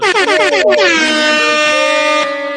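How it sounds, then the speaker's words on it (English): A loud air horn blasts in quick stuttering pulses, then holds one long, blaring tone that fades slightly at the end. "we gotta drop the air horn"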